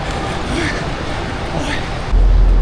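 A passenger train in Thailand rumbles close by at a station with a broad roar and faint squeals, then a louder low-pitched surge at the end; voices murmur underneath.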